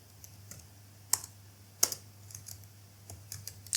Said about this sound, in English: Then let's type our struct.